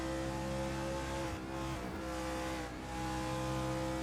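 Race cars in a racing video game, from the Dustbite Dream Race, ease off and slow into the pits, their engines droning steadily with shifting tones and no talk over them.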